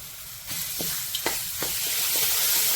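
Garlic dropped into four tablespoons of hot oil breaks into a sudden broad sizzle that holds steady and loud, with a few spoon taps against the pan as it is stirred.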